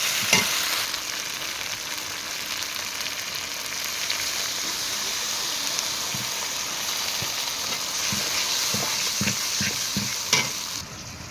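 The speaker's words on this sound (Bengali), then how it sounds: "একে একে সব মশলাগুলো দিয়ে এখন নাড়াচাড়া করে একটু সামান্য জল দিয়ে দেবো মশলাটা ভালো করে মেশানোর জন্য" Spices are stirred in a hot pan with onion paste for a Bengali fish curry with potatoes, giving a steady sizzle and frying hiss with scraping spoon strokes throughout, loud and close, with no talk.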